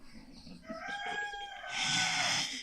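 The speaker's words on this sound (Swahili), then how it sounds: "Nadhani jogoo analika" A rooster crows outdoors, a single drawn-out call that rises and swells toward the end, fairly close and loud, with faint background noise and no talk.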